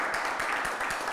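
An audience applauds at a talk featuring a musician who plays the inanga, a dense, continuous wash of many hands clapping at once, fairly close and loud, with voices mixed in.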